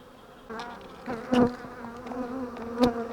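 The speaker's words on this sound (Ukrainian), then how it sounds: "зліші бджоли, щось вони до мене кидаються" Steady droning buzz of many honeybees swarming close by during a hive inspection after merging colonies, with a few louder passes of agitated bees flying near, no voices.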